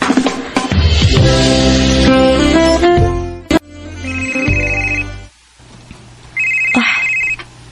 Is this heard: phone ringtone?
yes